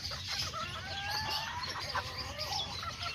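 Chickens and a rooster cluck and chirp close by in a farm coop, a busy overlapping chatter of short calls throughout, fairly quiet and without talk.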